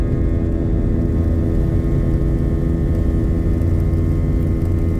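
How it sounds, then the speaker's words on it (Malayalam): Qatar Airways A320 jet engines taxiing along the runway before takeoff, a loud steady roar and whine from inside the cabin with no change in level. "റൺവേ കൂടെ ടാക്സിയിങ് ആണ്"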